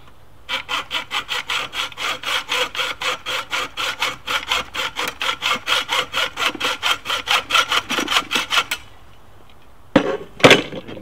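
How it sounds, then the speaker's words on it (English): A hand saw cuts a batten pin with a steady run of about thirty quick back-and-forth strokes, close and even, then stops, and a few sharp handling knocks follow. "I just give it a little, probably like 10 movements with the saw"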